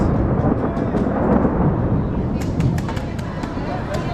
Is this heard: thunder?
yes